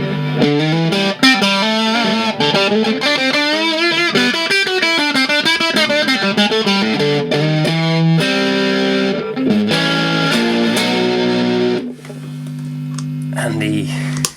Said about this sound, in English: Distortion Plus, one of my favorites.